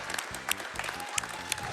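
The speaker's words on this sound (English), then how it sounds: "You can applaud, it's over. You can applaud." Applause from a live audience at a speedrun marathon event, a steady dense patter of clapping with a few sharper cheers over game music, moderately loud throughout.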